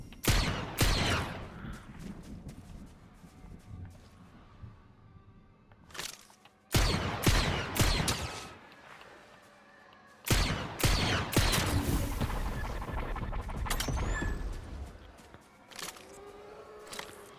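Gunfire in Fortnite, rapid clusters of shots and sharp bangs running through most of the stretch, loud and close, with brief gaps between volleys.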